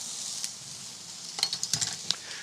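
Food sizzling on an outdoor grill, a steady soft hiss with a few brief crackles and pops clustered near the end, close and fairly quiet, no talking.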